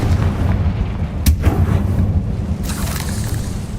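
Confringo fire spell cast in the Hogwarts Legacy video game, a sharp bursting blast near the middle over a constant low rumbling game backdrop, with a second softer burst near the end.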